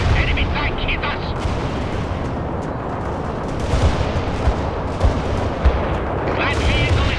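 Tank cannons and gunfire rumble through a battle in World in Conflict's Soviet Assault, with heavy booms and bursts over a constant roar of combat, as radio-style voices talk throughout.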